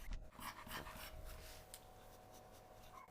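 A Cane Corso breathes heavily and pants close to the microphone, with quick rough breaths and snuffling against the mic. The sound is moderately loud and steady, and no one talks.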